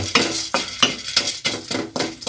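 A utensil stirs popcorn kernels through hot olive oil in a pan, scraping and rattling in steady repeated strokes about every third of a second, close and fairly loud over a soft sizzle.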